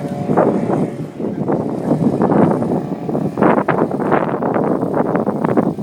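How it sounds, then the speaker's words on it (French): Strong, unstable gusty wind during an aerial acrobatics display with pilots performing figures. It buffets the microphone in loud, rough bursts that rise and fall continuously throughout. "le vent il tabasse, il secoue un petit peu"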